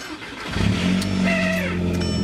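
A stock Audi TT MK1 coupe, with a clutch bearing that squeaks, starts up: a short crank, then the engine catches and settles into a steady, close, moderately loud idle, with no voices.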